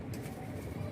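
Pigeons coo softly and continuously at close range in a rooftop pigeon loft, their low murmuring calls overlapping without pause.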